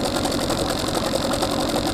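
A Hangkai 9.8 outboard motor runs steadily on a boat, its continuous mid-pitched engine drone and rapid mechanical ticking holding at an even level throughout with no talking.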